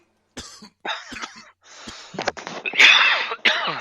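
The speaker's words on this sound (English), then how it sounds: "there's a lot of coughing and smoking going on" Several coughs in quick succession, close and fairly loud, with a harsh, wheezy burst near the end and short gaps between fits.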